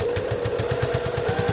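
A sewing machine top stitching the fold of a vinyl-lined cosmetic bag made from a placemat, running continuously nearby with a quick, regular thumping needle beat over a steady motor hum.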